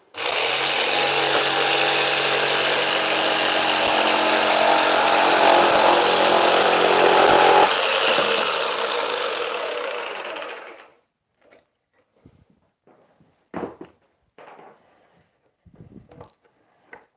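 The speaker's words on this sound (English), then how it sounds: "this first cut is going to cut through the fence as well at the same time" A jigsaw saws through a wooden jig and its fence in one long, loud, steady buzzing cut that runs about ten seconds and stops abruptly, followed by a few faint knocks and handling noises.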